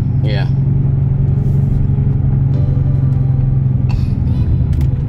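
Inside a C7 Corvette Stingray with a manual gearbox as the clutch is released on a hill: a steady, loud, low engine rumble fills the cabin throughout, with a few faint clicks and brief higher sounds above it.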